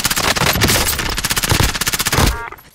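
Fully automatic video game gunfire, a loud close sustained burst of rapid evenly spaced shots that cuts off near the end, with no talk over it.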